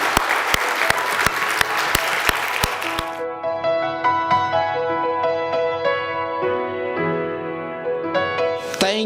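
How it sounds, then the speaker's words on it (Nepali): A church congregation applauds in a loud, dense burst with sharp, evenly spaced claps cutting through for about three seconds, then gives way to sustained keyboard music. "वचनको लागि ठुलो ताली बजाएर हामी धन्यवाद।"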